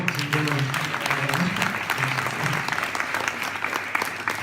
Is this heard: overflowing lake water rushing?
no